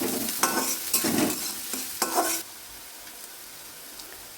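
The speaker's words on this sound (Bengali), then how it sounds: "এবার কুচি করে কেটে রাখা পেঁয়াজগুলি দিয়ে দিলাম। এই পেঁয়াজগুলো একটু ভেজে নেব।" Chopped onions hitting hot oil for gobi chilli give a loud, close sizzle with brisk stirring strokes for about two seconds, then settle into a much quieter hiss.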